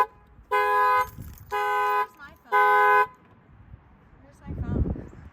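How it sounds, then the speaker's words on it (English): A car alarm sounds three loud, blaring horn blasts in a row, each lasting about half a second, followed by a muffled thump and rustle. "the alarm's going to go off"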